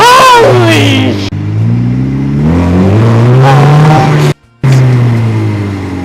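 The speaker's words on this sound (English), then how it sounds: "having a supercharged 4-cylinder sitting right behind your head, screaming at you as you hit the gas" Supercharged 4-cylinder engine mounted right behind the seats of a DF Goblin kit car with no body panels, revving loud and close in rising and falling pulls, with a brief cut near the end, while people shout over it.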